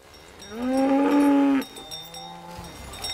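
A cow on a farm lets out one long, loud, resonant moo, then a shorter, lower call follows, close to the listener with no talking.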